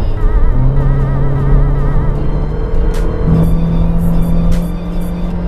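A standard Honda City speeds along a toll road, its engine note rising and shifting through gears with steady road and tyre roar from inside the cabin, loud and continuous.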